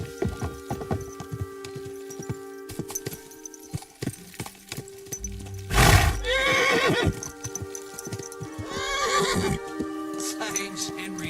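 A mare in Kingdom Come: Deliverance 2 whinnies loudly in a long neigh amid clip-clopping hooves, with voices talking around it and a second shorter whinny later.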